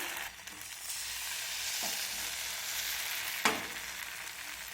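Rice batter for chakli pitha spread on a hot oiled pan makes a steady, hissing sizzle, with a couple of faint scraping touches and one sharper clack near the end, close and unaccompanied by talk.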